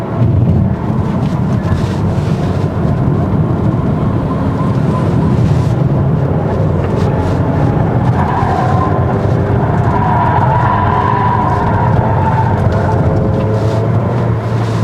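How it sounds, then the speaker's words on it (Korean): A 2026 Volvo XC40 B4 AWD accelerates, its engine and exhaust giving a steady low drone with rising tone, heard from inside over road and wind rumble, no talk. "이 차가 기본적으로 엔진과 배기음이 좀 있다 보니까 가속을 할 때 보면은 이게 소리 때문에 가속이 조금 더 빨리 느껴지고"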